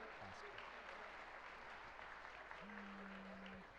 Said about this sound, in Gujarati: કર્ણધારોને માટે જોરદાર તાળીઓ.